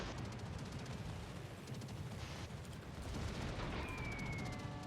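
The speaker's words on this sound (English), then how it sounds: "I blew up his turret." Muffled bursts of naval gunfire and an explosion as an enemy warship's turret is blown up in World of Warships, a dense steady roar of distant booms that runs the whole time with a thin whistle near the end.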